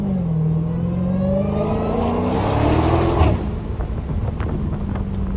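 A Dodge Hellcat engine revs hard while held in one gear, its rising, strained roar building over several seconds before cutting back to a lower rumble, loud and close with wind buffeting the microphone.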